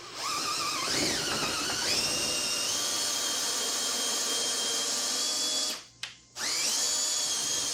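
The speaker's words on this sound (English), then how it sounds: "The next thing that needed to be done is cutting off the excess plywood off the top of this flower wall." A power tool cuts excess plywood off the top of a wooden flower wall, giving a loud, steady whine whose pitch rises and settles, then a brief stop and restart near the end.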